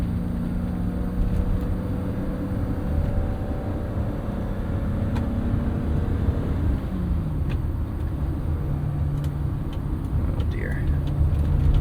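A 1987 BMW 325is E30 with a 5-speed manual bogs and falls flat under throttle on a highway, giving a low, steady engine drone with road rumble. A voice talks over it at moderate level.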